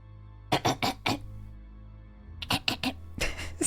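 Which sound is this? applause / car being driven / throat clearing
throat clearing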